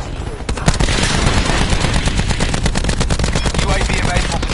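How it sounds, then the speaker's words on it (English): Rapid rolling blasts from a cluster grenade in a PS4 shooter, a dense, continuous string of close, loud explosive pops lasting several seconds with no gaps. "Cluster grenade going out."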